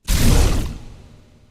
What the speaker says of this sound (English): This layer is comprised of an oncoming and receding sound